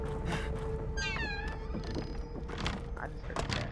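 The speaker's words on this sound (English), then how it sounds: "I just heard a cat." A cat in the horror video game The Evil Within lets out a drawn-out, wavering meow about a second in, followed by a few duller thunks and game sounds, with a steady background tone.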